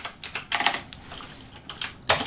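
Quick bursts of keystrokes on a computer keyboard, clustered in short irregular runs with brief pauses between, close and crisp, with no voice over them.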